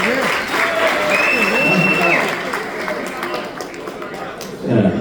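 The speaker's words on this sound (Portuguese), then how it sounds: "Uma salva de palmas aí dos companheiros." Crowd applause at a SINTECT-RJ union strike assembly swells loudly, mixed with shouting voices and a whistle, then thins out toward the end as voices carry on over it.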